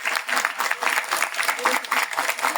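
An audience at a book presentation at a book fair gives the author a strong round of applause, loud and close, with clapping swelling in rhythmic surges; faint talk comes through underneath.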